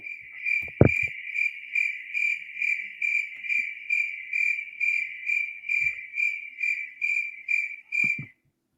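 A cricket chirps in a steady, even rhythm of bright pulses, close and clear, with a couple of low thuds and a brief mouth sound in the background.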